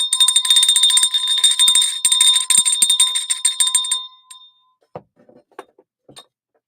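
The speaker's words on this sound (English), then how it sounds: "I got a bell, but I don't think she'll hear it." A hand bell rings rapidly and loudly for about four seconds with a bright metallic jangle, then stops, leaving faint clicks and small knocks.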